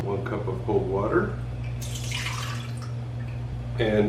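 Cold water from a kitchen tap runs steadily into a cup while a pizza dough recipe is prepared, a continuous splashing pour heard near and fairly loud, with a brief voice at the start and end.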